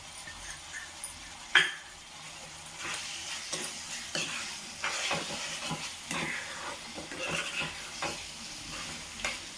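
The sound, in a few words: prawn curry with masala frying in a pan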